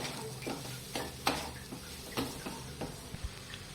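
A spoon stirs a coconut and sugar mixture in a pan over a low flame for narkel naru, making soft, intermittent scraping strokes over a faint sizzle, quiet and close with no talk.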